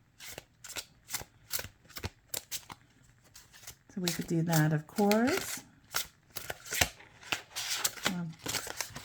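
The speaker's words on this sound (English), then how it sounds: "that is the shuffling of the deck" A slightly stiff deck of tarot cards being shuffled in quick crisp riffling bursts, including overhand shuffling, with a person talking briefly in the middle.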